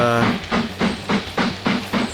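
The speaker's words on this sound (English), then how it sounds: "I may have to turn down the train volume because it is loud." Steam train running in the video game Mashinky, a loud, close, rhythmic chuffing with regular bursts of hiss roughly every third of a second over a steady low rumble.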